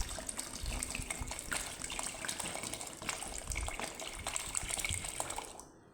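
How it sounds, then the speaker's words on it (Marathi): One litre of bottled water is poured into a container for a homemade herbal shampoo, making a steady close gushing splash for about six seconds before it stops. "हे 1 लिटर पाणी मी ह्याच्यात ओतते।"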